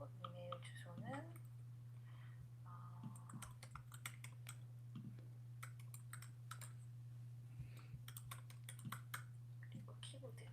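Quiet computer keyboard typing, a scatter of soft irregular key clicks over a steady low hum, with faint speech at times.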